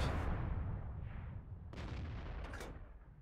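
Artillery gun firing in World of Tanks, a broad rumbling blast at the start followed by sharper bursts partway through, heavy low-end noise throughout with no talk.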